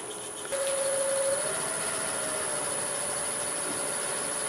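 A wood lathe spins a bowl blank at about 800 RPM, kicking in after a brief pause and then holding a steady, even mechanical whir with a thin tone on top, with nobody talking.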